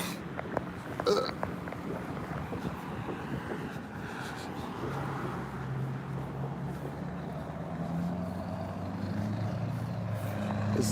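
A loud silver truck driving along a street, a low rumbling engine that grows gradually louder and nearer toward the end, with wind buffeting and a few sharp knocks early on.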